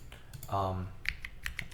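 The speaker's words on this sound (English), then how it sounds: "the tactility is going to be very pronounced as I type on the entire keyboard" Fingers type across a polycarbonate OwLab Spring clone mechanical keyboard, a quick run of crisp, close clacks with pronounced tactile bumps, faint talking underneath.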